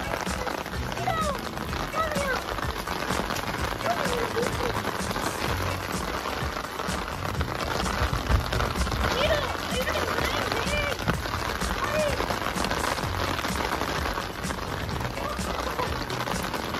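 Rain falls steadily, likely during the first rain of the season with a golden retriever out in it, making a dense close patter throughout, with scattered drips and a few faint voices underneath.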